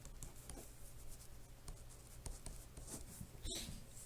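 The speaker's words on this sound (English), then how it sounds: "Let me write it one more time here so it looks better." Pen or marker scratching out a math expression, steady soft strokes with brief pauses across the whole stretch, close and fairly quiet with no talking.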